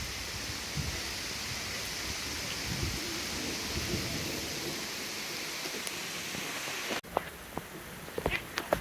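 Heavy rain pours steadily at a zoo in Berlin, a dense close hiss with a low rumble of thunder beneath it, then lighter scattered drops and taps near the end.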